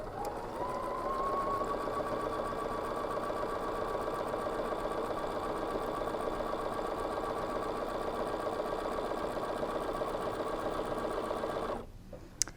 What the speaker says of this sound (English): Lower my foot and just begin to sew.